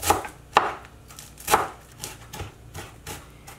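Knife chopping a folded bunch of cilantro on a cutting board, a quick series of crisp irregular thuds close by, with no talking.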